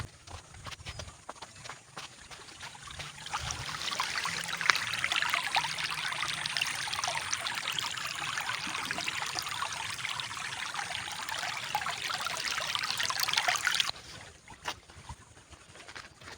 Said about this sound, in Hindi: तो ये नदी का पानी, इसकी आवाज़ आ रही है आपको